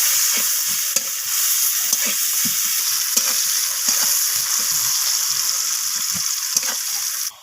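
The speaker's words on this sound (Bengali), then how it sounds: "পেঁয়াজটাকে আমি ব্রাউন রং করে ভেজে নেব" Chopped onions sizzle steadily in hot oil in a pan while being fried until brown for a rohu fish curry, with intermittent stirring scrapes and clinks over a constant frying hiss throughout.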